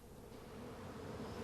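Honeybees buzzing in a steady, dense drone that holds evenly throughout, close and continuous with no voices.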